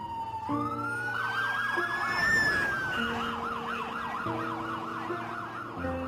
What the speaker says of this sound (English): from every direction, you just heard sirens coming.